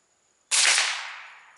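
A single subsonic bullet gunshot fires sharply out of silence, a loud broadband blast that tails off over about a second into a fading echo.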